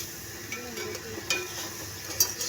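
Masala spices fry in an oil-filled kadhai while being stirred, giving a soft, steady sizzle with occasional scraping clicks of the spoon, faint and continuous with no talking.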